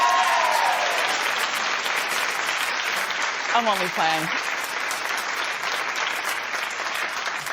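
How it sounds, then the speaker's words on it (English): A studio audience at a daytime talk show applauds loudly and steadily throughout, and someone speaks briefly over the clapping partway through. "Go ahead and clap, you Neanderthals."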